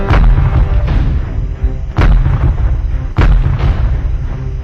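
CBU-105 cluster bomb detonating over Iraqi tanks near Baghdad, three heavy booming blasts about a second apart, each with a sharp onset and a rumbling tail under continuous low roar.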